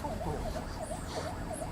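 An ambulance siren wails in a steady rising-and-falling cycle, loud and continuous over low traffic rumble, with no voices.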